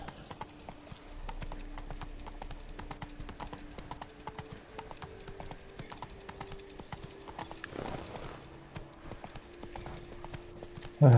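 Steady clip-clopping of horse hooves in the video game The Witcher 3: Wild Hunt, at a trotting rhythm, continuous throughout with a faint tonal hum underneath, ending in a sudden loud thump.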